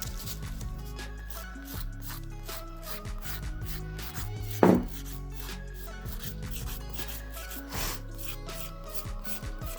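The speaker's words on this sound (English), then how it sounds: "I'm just going to lightly buff over the nail" A nail file lightly buffing a painted fingernail, rapid fine rhythmic rubbing strokes throughout, close and soft, with one brief louder scrape midway and no voices.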